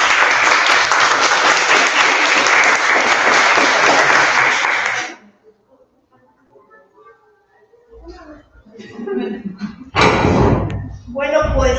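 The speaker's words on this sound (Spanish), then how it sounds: "Pues un aplauso enorme," Audience applause at a university conference, a loud dense burst of clapping lasting about five seconds before it cuts off, followed by quiet room noise, a few knocks and a speaker beginning to talk.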